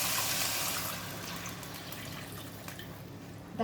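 Water pours steadily into a cooking pot holding browned, fried pork ribs as a mung bean soup gets started, a continuous close splashing wash that eases slightly after the first second.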